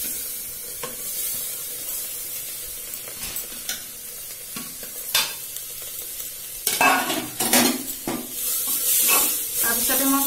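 Pointed gourd (parwal) frying in a pan sizzles steadily, with louder bursts of stirring and utensil scraping in the second half; the sound is close, with no talk.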